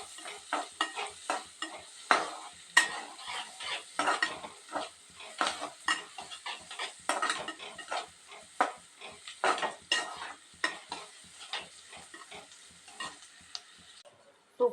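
Garlic and green chillies frying in a pan for onion coriander chutney, with steady sizzling and frequent scraping, clinking stirs of a utensil against the pan, close and moderately loud.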